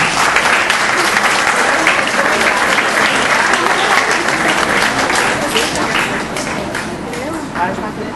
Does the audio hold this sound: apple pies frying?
no